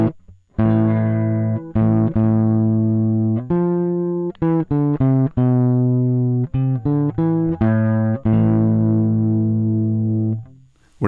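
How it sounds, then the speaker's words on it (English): Distorted electric guitar from Band-in-a-Box 2023 software plays a run of sustained, gritty notes and chords, loud and saturated, with short breaks between phrases. "we're now hearing the distortion there."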